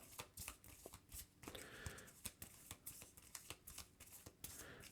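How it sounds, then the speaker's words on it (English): Marvel Champions game cards, the four Kang variants, are riffle-shuffled by hand in a quiet room, a run of soft papery flutters and taps repeating over several seconds. "Let's shuffle the 4 Kang variants here."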